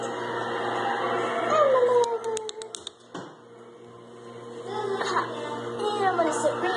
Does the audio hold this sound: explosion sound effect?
no